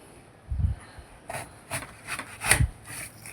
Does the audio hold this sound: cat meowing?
no